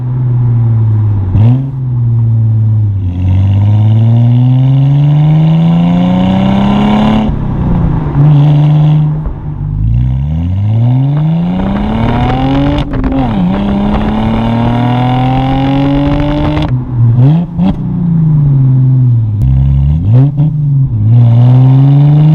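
A rare Mercedes engine revs hard and loud through a series of downshifts, pitch rising and falling in sweeping surges with sharp blips between gears, close and continuous for over twenty seconds.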